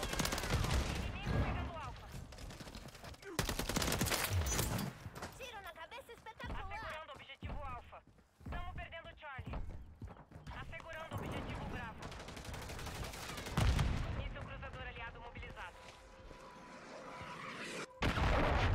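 Bursts of automatic gunfire and single shots from Call of Duty Modern Warfare 3 match play, loud and close, broken by pauses and mixed with vehicle sounds, while a player talks over the action.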